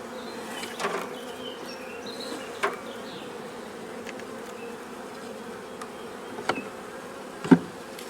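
Honey bees in a hive box make a steady, moderate drone of buzzing, broken by a few brief knocks and taps.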